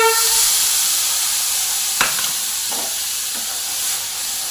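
Mustard and poppy seed paste with turmeric going into a hot pan, a steady loud sizzle and hiss with a few brief scraping stirs.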